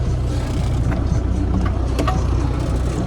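An MTZ 892 tractor fitted with a Veles Agro 2+1 plough runs with a loud, steady, close diesel rumble and a deep low drone that holds unbroken throughout, with no voices over it.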